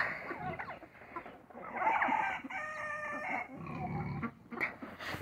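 Chickens cluck and squawk nearby in a busy flock, with a crowing rooster and other farmyard noise mixed in.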